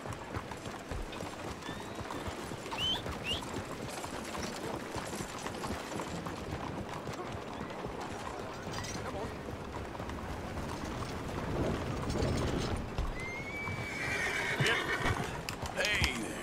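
Horse neighs and hoof clip-clops in the Red Dead Redemption 2 video game, with a loud whinny near the end over a steady outdoor bed of game ambience and footfalls. Someone speaks over part of it.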